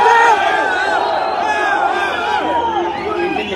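Football crowd voicing protest from the stands at an RS Berkane versus Abu Salim match, a dense, sustained roar of many shouting voices filling the whole stretch at a steady loud level.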